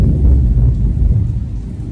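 Thunder rolls during a storm as a loud, sustained low rumble that fills the whole stretch, with no voices.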